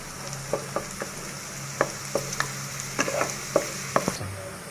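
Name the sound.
beef tripe stirred and frying in oil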